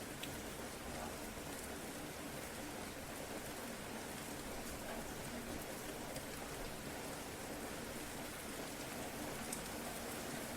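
Steady rain falls without a break, a dense, even hiss of drops on surfaces holding at the same level throughout with no voices.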